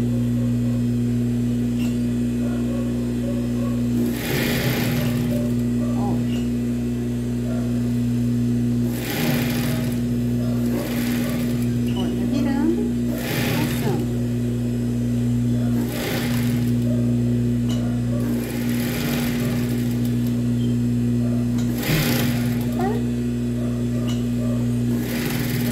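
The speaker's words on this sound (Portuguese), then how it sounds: "então vamos passar a costura, deixando 2 dedinhos pra gente desvirar" A sewing machine runs close and steady, stitching a seam around fabric for a children's outfit with a high-waisted diaper cover and crop top, its constant motor hum broken by brief louder bursts at regular intervals.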